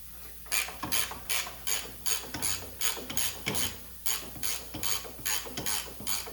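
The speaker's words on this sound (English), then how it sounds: "I do have a 13/16 ratcheting wrench, which will also fit over it" A 13/16 ratcheting wrench clicks steadily as it is turned by hand on a bolt during strut work on a 2007 Chevy Silverado, a close, rhythmic run of ratchet bursts with brief pauses between strokes.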